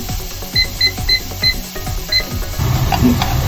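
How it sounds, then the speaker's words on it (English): A quick series of electronic beeps from a kitchen timer being set, several short button chirps in a row, close and clear. "I said 4 minutes alarm."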